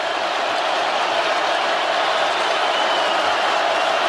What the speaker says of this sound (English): Georgia's half of the crowd making some noise here